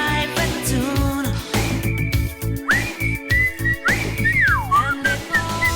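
A person whistles a song tune, a clear, close melody of sustained and gliding notes over a soft musical backing, with no talking.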